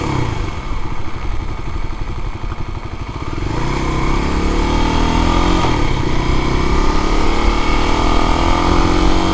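Kawasaki KLX 250 dual-sport motorcycle engine idling with a rough, close thumping beat, then revving up and holding a louder steady drone while the bike turns around on a closed road; no talking.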